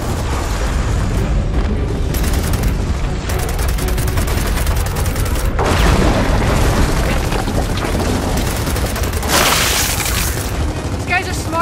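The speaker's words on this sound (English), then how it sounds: "Throwing frag!" A frag grenade and gunfire in Gears of War 4 combat: dense rattling shots and loud booming blasts, with sharp bursts near the start and middle, under brief shouted voices.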